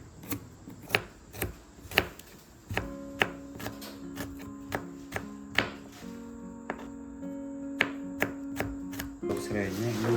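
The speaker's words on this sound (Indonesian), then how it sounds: "Serainya ini bisa diiris-iris tergantung selera" Fresh lemongrass sliced with a knife on a board in a home kitchen, a series of crisp, irregular chopping taps close by over a quiet hum, with faint tonal sounds in the background.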